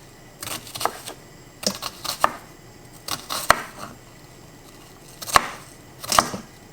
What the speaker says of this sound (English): I'm gonna cut off the end of this piece.